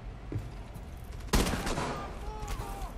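Gunfire in Rainbow Six Siege rings out as a sudden sharp shot followed by a quick cluster of crackling reports, fairly quiet overall against faint ambience.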